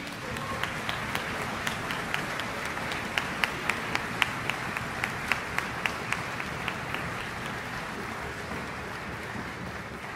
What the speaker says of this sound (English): he deserves a huge round of applause